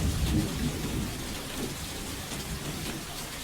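Steady rainfall hisses evenly with a low rumble of thunder rolling underneath, a soft, continuous downpour with no voices.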